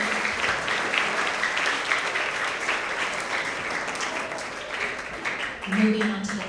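At a school awards ceremony, an audience applauds continuously in a steady, moderately loud wash of clapping, with voices and a brief cheer or call rising near the end.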